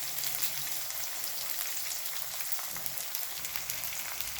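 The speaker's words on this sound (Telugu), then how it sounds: "ఈ ఉల్లిపాయలు, పచ్చిమిరపకాయ ముక్కలు 1 నిమిషం వేగిన తర్వాత" Chopped onions and green chillies sizzle in hot oil in a pan for semolina upma, a steady, close crackling fry with faint scattered pops and no voices.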